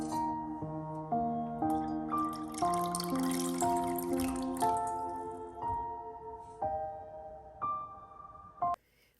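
Liquid orchid fertilizer poured into a spray bottle, the stream rising in pitch in clear stepped gurgling tones as the bottle fills, close and distinct, with brief pauses between pours and no voices.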